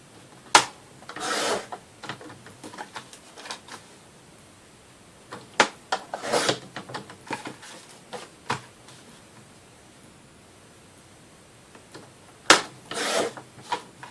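Paper being cut to size for a Dollar Tree DIY holiday frame, with short scraping and rasping strokes in uneven bursts, near and fairly quiet, separated by pauses.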